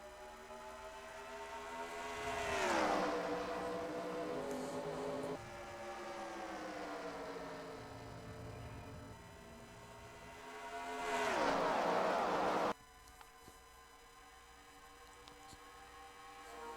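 Race cars roaring past at Homestead in the Universal Orlando Cup series: engines sweep by in two loud passes with falling pitch, then a steady distant hum of the field continuing around the track.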